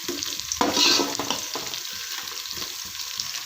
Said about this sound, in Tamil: நம்மளுக்கு சின்ன வெங்காயமும் பச்சை மிளகாயும் நல்லா வதங்கி வந்திருக்கு பாருங்கள்